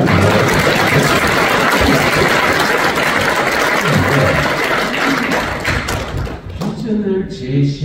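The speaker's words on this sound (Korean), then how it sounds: "박수를 치고 확실히 치셔야 됩니다." Audience applause at a sermon given to a patriotic association in a Ministry of National Defense convention hall, a loud, dense clapping wash that stays strong for about seven seconds, then thins out as a voice cuts in near the end.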